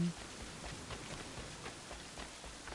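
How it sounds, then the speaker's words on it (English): Steady rain falls in the Assassin's Creed 3 video game, a faint, even hiss of drops on surfaces with no break across the short stretch. "It is raining"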